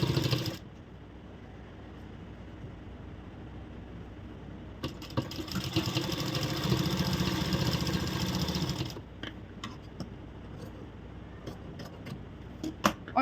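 A sewing machine stitches blouse main fabric and lining together, running in a steady buzzing whir for about four seconds between quieter stretches of faint clicks and handling noises, close by and with no talking.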